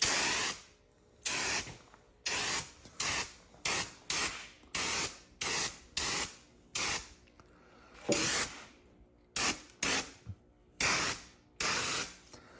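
A spray paint can sprays paint onto a Ford F600 pickup truck being built from a 10-ton GVW truck, in about fifteen loud, close, hissing bursts separated by short pauses.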